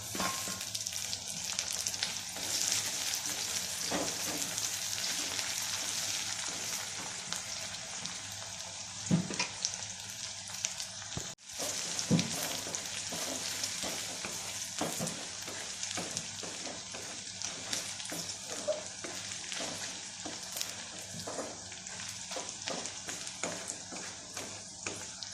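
Curry leaves and onions fry in a pan with a steady, close sizzle that runs throughout, broken by occasional stirring clinks and brief sharper crackles.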